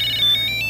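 A Tile Pro Bluetooth tracker rings with a loud, close electronic tone, high beeping pitches repeating in short bursts over a low steady hum.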